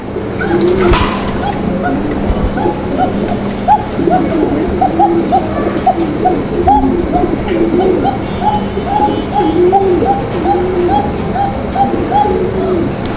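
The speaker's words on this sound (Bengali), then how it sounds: "আচ্ছা এটা নর ডাকতেছে আপনারা শুনতে পাচ্ছেন সুরটা" A male Arabian Coca pigeon coos repeatedly at a pigeon market, its rolling, rhythmic calls close and clear over a steady background hum with faint traffic.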